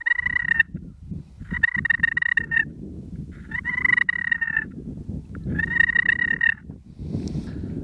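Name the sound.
purr on a turkey slate call, striker tip dragged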